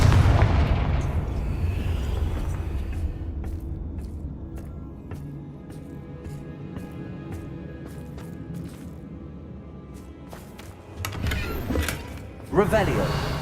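Fiery Confringo spell blasts in Hogwarts Legacy: a big burst opens with a long rumbling decay, then fresh explosive hits crackle near the end, with talk mixed in.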